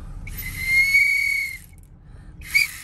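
A person gives a loud, shrill whistle lasting about a second, followed after a pause by a shorter, sharper whistle.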